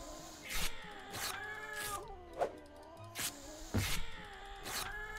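A strange cat-like creature in the Jazzpunk video game meows and yowls repeatedly, several drawn-out cries rising and falling over a steady game soundscape.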